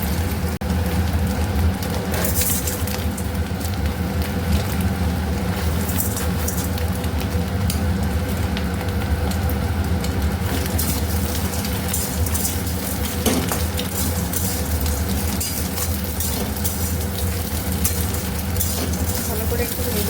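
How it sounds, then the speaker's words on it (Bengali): Chopped onion and chilli fry in a pan with a steady, loud hiss and sizzle throughout, occasional clinks and stirring scrapes mixed in. "ফ্রাই করে নিই। হচ্ছে পেঁয়াজ কুচি আর হচ্ছে লঙ্কাটা দিয়ে দেবো।"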